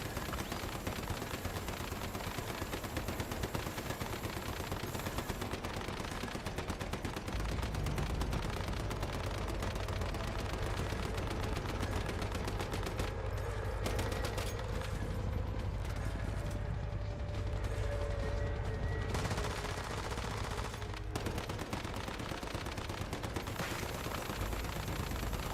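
Continuous gunfire and mechanical clatter in the survival shooter game Once Human while fighting a boss, loud and steady for the whole stretch with rapid ratcheting bursts and no talking.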